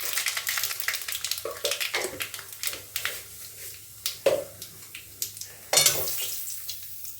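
Dry red chillies, black mustard seeds and nigella seeds sizzle in hot oil for a radish-greens dish, close up, with crackling pops, scattered spitting bursts and occasional stirring scrapes throughout.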